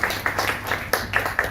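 Scattered hand claps from an audience greeting a female singer at a raga concert, a short burst of uneven clapping over low room hum.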